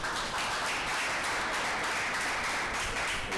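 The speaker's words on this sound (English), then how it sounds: "Please, a round of applause for him." Applause from an audience at a media relations seminar greeting a newly introduced presenter, a continuous wash of clapping heard at a distance and fairly faint.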